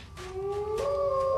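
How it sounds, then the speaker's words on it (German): Wolves howl nearby in a cartoon scene, a long rising tonal wail that swells and bends upward, with a second voice joining at a higher pitch, sustained and fairly clear. "Wölfe, die sind ganz in der Nähe."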